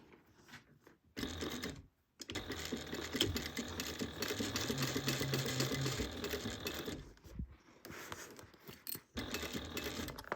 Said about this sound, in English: we're going to sew around this at 1/4 inch seam allowance